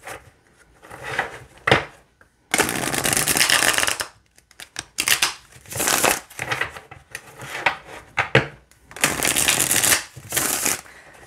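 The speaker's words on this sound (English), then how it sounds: "let's see how they shuffle" A Celestial Tarot deck is shuffled by hand in repeated bursts: riffles and card flutters come in bouts separated by brief pauses, crisp and close.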